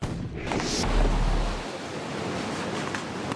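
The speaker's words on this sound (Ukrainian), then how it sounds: "Круті пороги крижаної води непередбачувані та спокусливі." Icy mountain river rapids rush with a loud, continuous close roar of churning water that swells around the first second, with some wind buffeting and no talk.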